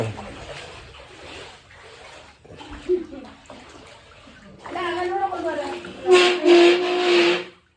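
Water splashes and sloshes as people play lying in it, the splashing growing louder toward the end, with voices, including a child's, talking throughout.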